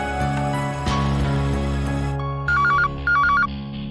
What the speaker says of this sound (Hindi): मैं घर पे फोन कर देता हूँ।